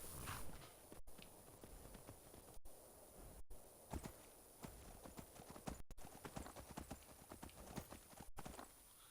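Rhythmic clip-clop of horse hooves at a steady walking pace in the video game Skyrim, fairly close, with a faint rustle in the background and no talking.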